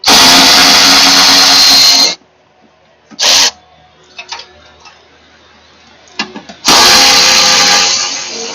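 Mower deck pulleys and blade spindles on a 60-inch Hustler FastTrack spinning by hand, a loud broadband whir lasting about two seconds, then quiet with brief clicks and a short burst, then another long loud whirring spin.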